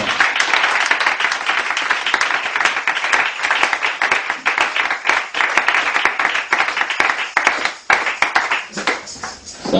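A church congregation breaks into loud, sustained applause, a dense wash of many hands clapping close by for nearly ten seconds before it begins to thin out at the end.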